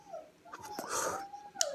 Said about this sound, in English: Sorry, that's just my dog.